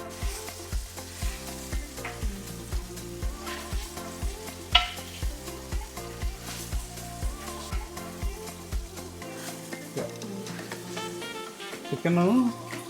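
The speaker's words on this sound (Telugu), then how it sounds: "ఇప్పుడు చికెన్ వేస్తాను ఇందులో." Chicken pieces frying in oil in a pan for a biryani-style fry, a steady sizzle with a regular pulsing stir pattern and a brief louder clatter near the end, no one talking.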